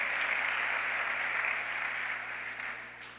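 Applause from a church congregation during a sermon, a continuous wash of clapping that fades gradually toward the end, fairly distant and soft.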